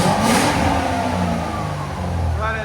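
A 2006 Ford Mustang GT with a 4.6L V8 and Valvetronic Designs mufflers revs up from idle, its deep exhaust note rising and falling close by over nearly three seconds, with a voice speaking briefly over it.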